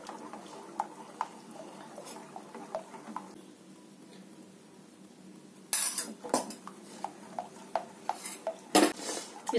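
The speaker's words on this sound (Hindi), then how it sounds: "अब हमने जो बेसन को भूना है थोड़ा थोड़ा करके हम इसमें ऐड करते जाएंगे और चलाते रहेंगे ताकि इसमें लम्प्स ना बने।" Roasted gram flour is added bit by bit to tomatoes in a pan while a metal spoon stirs and scrapes, making repeated clinks and taps, quiet at first and then louder and busier with a few sharp knocks, with no speech.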